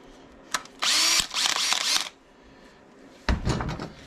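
A power drill whines at high speed for just over a second while drilling a hole in metal, then runs in shorter bursts. A clunk follows, and then a final rough burst of drilling.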